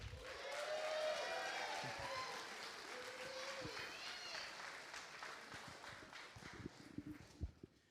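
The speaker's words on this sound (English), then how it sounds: "Let's give a big round of applause for former champion and VP of Development at WRHN Foundation, Jamie Wilson." An audience at a charity boxing weigh-in applauds a former champion as he is introduced, a broad wash of clapping that swells early and then thins, with voices and a few thumps near the end.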